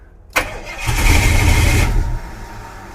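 An old Jeep truck engine, about fifty years old and neglected, primed with fuel poured into the carburetor, cranks briefly, then catches and runs loud and close, revving for about a second before it dies down.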